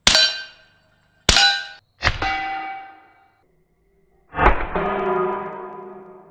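Suppressed 9mm PSA Dagger pistol rounds strike steel targets, giving three separate loud metallic clangs with ringing decay, spaced apart with quiet gaps between them.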